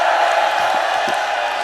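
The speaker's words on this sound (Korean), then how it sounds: "Let's give a shout." Church congregation at a Korean conference shouting and cheering together in a sustained, loud crowd roar with scattered whoops, a dense wall of voices throughout.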